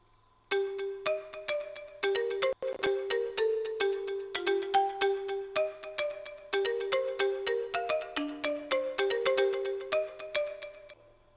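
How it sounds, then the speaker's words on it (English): A layered marimba pattern built from three blended sounds in FL Studio for an Afro salsa beat plays bright, quick plucked notes in a bouncing repeated rhythm, clear and up front with no talking. "So this is a marimba. I'm mixing three different sounds to give me one sound."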